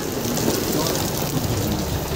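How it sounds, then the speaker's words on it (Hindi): Steady, heavy rain hisses continuously, a dense wash of drops with no break. "आवाज़ ही आवाज़ है बारिश का"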